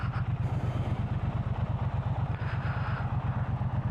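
A Triumph Bobber motorcycle engine while riding, a close, steady low thumping pulse with a rhythmic beat and wind rush, with no talk.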